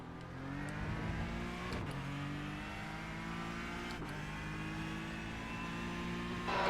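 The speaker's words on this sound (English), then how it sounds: "The transmission sound kills me in this car." A race car engine in a racing video game at Spa holds a steady high drone with gear-shift drops about twice, whining transmission tones layered over it, loud and close.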